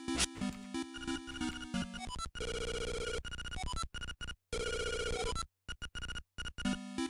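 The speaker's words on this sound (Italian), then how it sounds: "Un telefono, vediamo." In the 1993 Game Boy game Zelda: Link's Awakening, a telephone rings with bright chiptune tones, bursts of electronic ringing that stop and restart in choppy segments, with no one speaking.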